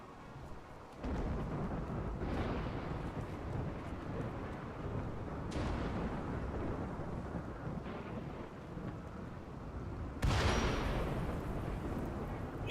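A thunderstorm in the video game Rimworld: steady rain-like rumble throughout, with several sharp loud thunder cracks rolling out at intervals, the strongest near the end, and no voices.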